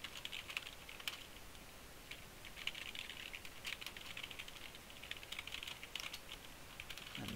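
Soft, steady typing on a computer keyboard, quick clustered keystrokes with brief pauses, close and fairly quiet, with no one talking, while shader code is written.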